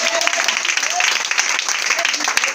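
A congregation applauds during worship, a dense wash of clapping that carries on steadily through the moment with singing or voices mixed in.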